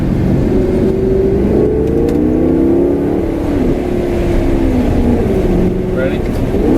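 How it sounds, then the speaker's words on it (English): A 2013 Maserati GranTurismo roars loudly from close by as the engine note sweeps down and up through several downshifts, with rising and falling revs over steady road rumble. "Can you hear these downshifts?"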